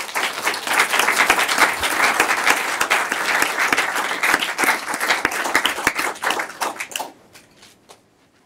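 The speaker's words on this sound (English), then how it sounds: "Okay, give them a round of applause." Audience applause at a city council meeting, a loud, dense burst of many people clapping that holds steady, then thins to a few scattered claps and fades out near the end.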